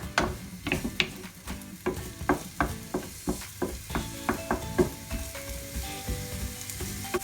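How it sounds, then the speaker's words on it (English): Onions sweating gently in a pan for a turkey burger mixture, a soft steady sizzle broken by repeated scraping stirs of a utensil against the pan, close and fairly loud, with no voices. "I've been cooking these onions for about 2 to 3 minutes, just to sweat them down"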